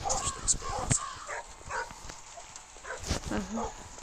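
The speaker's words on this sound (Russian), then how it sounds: "Да заткнись ты, собака." A dog gives several short, sharp barks and yips at close range, scattered irregularly across a few seconds amid rustling and handling noises, with a voice speaking briefly.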